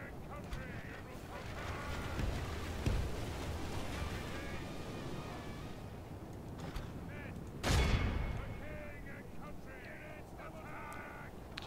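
Medieval battle in Total War: volleys of gunfire and artillery booms over a dense clamor of combat, with a sharp loud blast near the middle, heard as ongoing in-game din.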